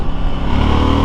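KTM Duke 890R twin-cylinder motorcycle engine at full throttle, a loud, steady, close rumble held through a very short moment.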